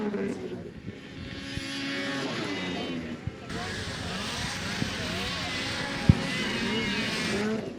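Snowmobiles race in a snocross event at Steeplechase in Mazeppa, Minnesota, their engines droning and revving over one another at a distance while an announcer calls the race over a loudspeaker.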